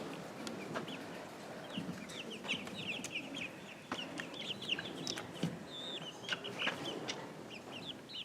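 Young chicks kept in a homemade brooder box, with a steady stream of soft, high peeping and chirping calls close by. Small clucks come and go over a light background murmur, and no one speaks.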